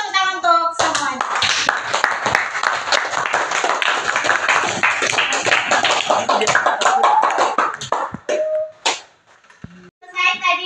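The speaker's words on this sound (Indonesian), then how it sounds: "Ayo kita tepuk tangan untuk semuanya" A classroom of children claps together in a loud, sustained burst for several seconds, with kids' voices mixed in, before it fades to a few scattered taps and talking.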